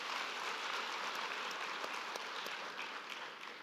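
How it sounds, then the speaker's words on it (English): An audience at a UNISA autumn graduation ceremony applauds the graduates, a soft, distant wash of many hands clapping that holds steady and tapers slightly at the end. "let's give our graduates just one round of applause,"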